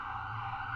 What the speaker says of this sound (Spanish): está sonando una ambulancia ahora mismo